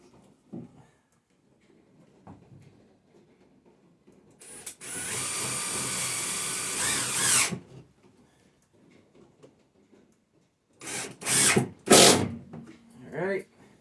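A power drill drives 2-inch deck screws into plywood, with one loud sustained whir of a few seconds and then two shorter bursts, between stretches of quiet talk.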